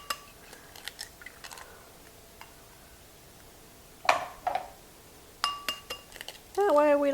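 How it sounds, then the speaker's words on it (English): Eggs cracked one at a time against a glass bowl for a box-mix Twix cake: a few sharp, close clinks and taps spread out with pauses between them, while a person talks quietly in the background. "I'm going to crack them in one at a time"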